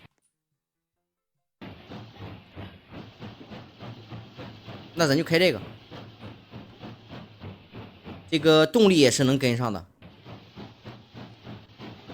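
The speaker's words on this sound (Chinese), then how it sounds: "前面这个火车可以，前面这个火车有声音" A steam locomotive in a train simulator game chuffs in quick, regular beats, with two loud bursts of hissing steam partway through. Someone talks over it.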